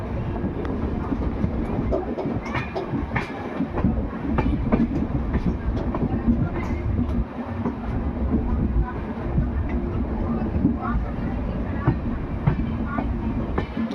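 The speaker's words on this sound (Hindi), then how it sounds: "अब ट्रेन की स्पीड थोड़ी धीरे हो गई है" Dayodaya Express 12182 between Ajmer and Kota easing its speed on a curve toward Phulera Junction, with steady rumbling wheels and rhythmic clickety-clack over rail joints heard from inside, continuous and moderately loud.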